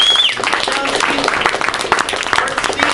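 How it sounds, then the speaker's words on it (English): Audience at an open mic night in Wilkes-Barre, Pennsylvania, applauding steadily after a set, a dense wash of close hand claps and scattered cheers that holds loud throughout. "So give yourselves a round of applause for coming out."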